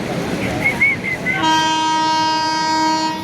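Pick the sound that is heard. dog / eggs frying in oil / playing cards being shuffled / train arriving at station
train arriving at station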